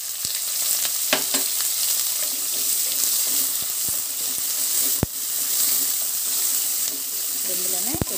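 Thinly sliced onions hit hot oil with fried green chilies for a cabbage dish, setting off a loud, even sizzle close by, with occasional sharp spoon clinks against the pan.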